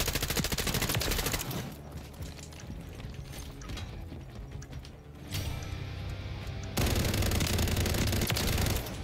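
Rapid gunfire from Call of Duty Modern Warfare 3 rattles in dense bursts, loud and close, dropping off mid-clip before resuming in sustained sprays of shots.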